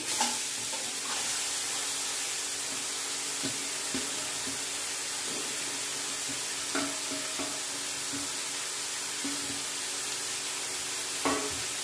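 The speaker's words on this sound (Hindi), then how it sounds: "मेरा घी गर्म हो चुका है अब मैंने जो दो किलो गाजर को कद्दूकस करके रखा है मैं कढ़ाई में डाल दूंगी" Two kilos of grated carrots hitting hot ghee in a kadhai for gajar halwa, a loud continuous sizzle and hiss that stays steady throughout, with a few faint stirring clinks and no talking.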